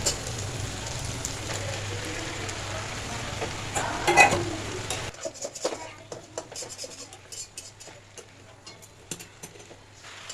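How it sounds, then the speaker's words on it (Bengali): Vegetables and pumpkin stems sizzle and crackle steadily in a hot pan, then the sizzle drops to scattered pops and clicks as ingredients are stirred. "আমার সবজিটা একটু ভাজা ভাজা হয়ে গেছে এবার আমি কুমড়োর ডগাটা এর মধ্যে দিয়ে দেব"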